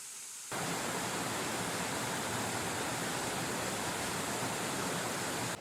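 Cane Creek Gorge waterfall rushes in a steady, dense roar that starts abruptly after a brief quiet moment and holds unbroken, with no voices.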